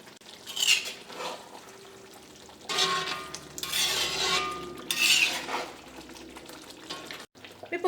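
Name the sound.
stirring spicy pork roast curry in pot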